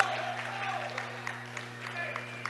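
Home crowd at a high school boys basketball game cheering and clapping after a turnover, a steady mid-distance roar of applause under a low electrical hum.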